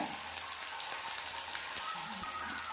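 Fennel seeds dropped into hot oil for a hotel-style poori potato masala give off a steady, dense crackling sizzle that carries on through the moment with no talking.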